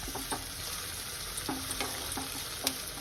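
Capsicum pieces fry in a pan with green chilli and ginger, making a loud, close, continuous sizzle broken by a few sharp crackles and stirring clinks.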